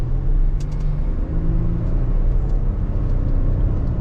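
A 2025 Toyota Tundra TRD with the Rally Package accelerates hard in sport mode, its engine giving a loud, steady, deep rumble as the 10-speed automatic pulls through the gears, heard from inside the cabin.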